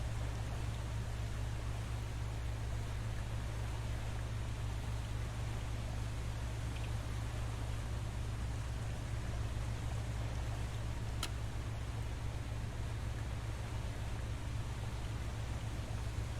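Boat engines run steadily in the game Boat Crew, a continuous low droning rumble with a broad wash of water-like noise that holds constant throughout, with no talking.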